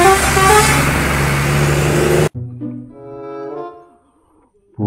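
A Doa Ibu bus roars past at close range with heavy engine and road noise, then its horn sounds in a short tonal melody that fades and stops, followed by a brief burst of noise.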